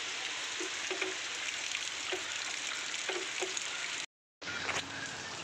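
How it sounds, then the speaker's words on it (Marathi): Rain falls steadily over a village as a dense, even hiss close by, with faint scattered patters and a brief moment where the sound drops out completely. "दिवसभर पाऊस आहे आज"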